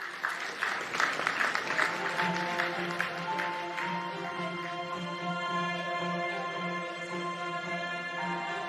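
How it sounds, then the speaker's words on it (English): An audience applauding at the Afreximbank Annual Meetings presidential session, a dense burst of clapping that peaks early and then slowly tapers off under a faint voice. "Another round of applause for Her Excellency, the CARICOM Secretary General, Dr. Carla Barnett."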